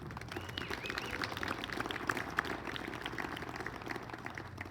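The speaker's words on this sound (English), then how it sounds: "Let's have one more round of applause for our induction of coaches." Audience applause at a Rio Grande Athletics Hall of Fame induction for coaches, a steady, dense wash of clapping from a hall crowd that holds an even level throughout.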